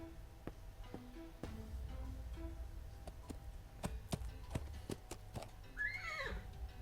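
A horse in the adventure game Willy Morgan and the Curse of Bone Town gives a loud descending whinny near the end, after a run of sharp hoof clops and knocks over a low ambient hum.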